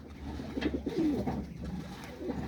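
A domestic pigeon coos nearby in a soft, rolling burst of low warbling notes that rises and falls over a faint hum, with no talking.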